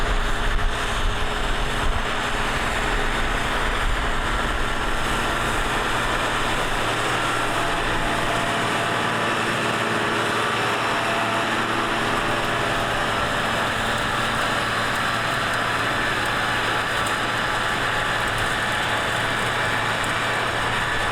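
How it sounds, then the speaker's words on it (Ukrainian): A tractor of over 130 hp pulls a VEPR 5.5NS-01 cultivator with double-row spring harrows along the hard ground at a field edge, making a steady, loud engine drone with no breaks and no talking for the whole stretch. "Зараз спробуємо е, край поля відкультивувати."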